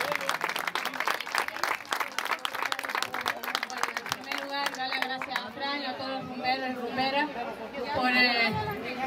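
A studio audience at a Spanish-language party show applauds a mother, a steady roar of many hands clapping under loud crowd chatter. A voice speaks over the clapping at the start, and the clapping swells later.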